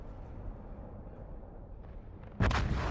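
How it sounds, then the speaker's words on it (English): A torpedo hit from a Myoko heavy cruiser's salvo in World of Warships lands as a sudden loud explosive boom near the end, following a low, steady rumble of naval battle ambience. "Hopefully these torpedoes will land a hit."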